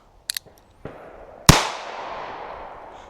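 A single sharp, loud gunshot from an NAA mini revolver fired one-handed into dirt cracks out close by, its echo decaying for over a second after a few small clicks and a soft handling knock.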